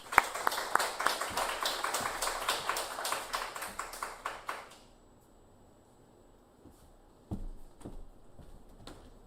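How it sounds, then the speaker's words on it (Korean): Congregation applause at a Korean Wednesday church service welcoming the pastor to the pulpit: dense hand clapping for about five seconds that stops abruptly, then near silence broken by a brief bump. "박수로 모시겠습니다"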